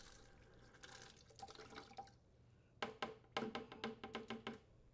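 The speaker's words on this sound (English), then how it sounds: "rotate the T-handle on the shutoff valve counterclockwise to fully open and flush out the copper tubing" Water rushes and gurgles briefly through the copper supply tubing of a KitchenAid refrigerator as the shutoff valve is opened, then a run of sharp spurts and drips sputters out in quick irregular bursts.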